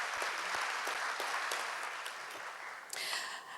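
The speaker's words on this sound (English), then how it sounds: "A big round of applause for all of our panelists." Applause from a luncheon audience, steady clapping at moderate distance that fades slightly toward the end, with a brief swell near the close.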